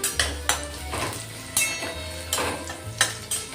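Garlic halves sauté in a pan until golden, giving a steady low sizzle broken by several sharp clinks and scrapes of a spoon stirring against the metal, close and moderately loud with no talking.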